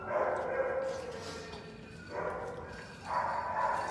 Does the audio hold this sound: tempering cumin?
no